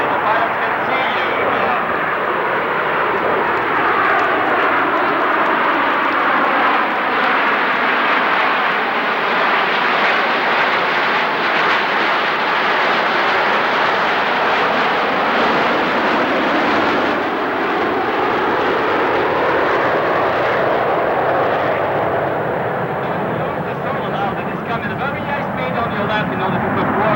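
Italian Air Force Frecce Tricolori jets roar overhead at an airshow, a loud, sustained rushing engine noise that swells and sweeps as the formation passes, with a commentator speaking over it throughout.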